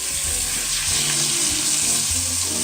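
A sweet mustard steak sizzles loudly and continuously in a pan as it is basted, giving a dense, close frying hiss with small bubbling shifts.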